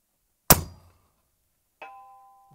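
A rifle shot cracks sharply, then after a long pause a distant bullet strikes a steel target with a faint metallic ring that lingers and fades.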